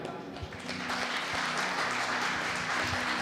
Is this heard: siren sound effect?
no